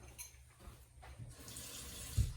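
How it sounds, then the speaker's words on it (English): A splash of water poured into a stir-fry pan holding sweet and spicy chicken, short and soft, rising into a brief hissing wash with a small knock at the end. "let me put a little water in here"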